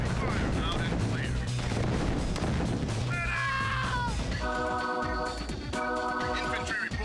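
Missile and gunfire combat in Command & Conquer: Tiberian Sun, a dense rumble of explosions and rapid shots followed by bursts of layered electronic unit beeps and tones. The sound is loud and continuous with no pause.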